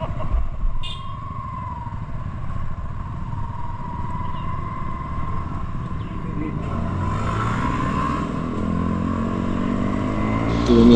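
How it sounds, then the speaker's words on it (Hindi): A motorcycle with a loud aftermarket exhaust rides along, its engine drone holding steady then building toward the end, with wind rumble throughout and faint voices in the background. "इसकी बाइक का एग्जॉस्ट अलाउड है"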